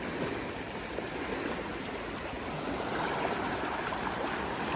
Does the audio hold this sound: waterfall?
yes